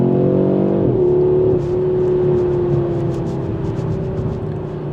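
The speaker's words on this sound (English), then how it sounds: "The sound of the 5 cylinders is just so good" A 2025 Audi RS3 five-cylinder engine revs and then settles into a steady, loud drone, with a rough, throaty tone that holds through to the end.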